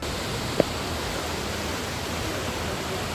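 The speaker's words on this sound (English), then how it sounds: "One of my favorite fountains that we saw was the Trevi Fountain." Steady broadband rush of falling, splashing water at the Trevi Fountain in Rome fills the whole clip at an even level, with one brief sharp tap near the start.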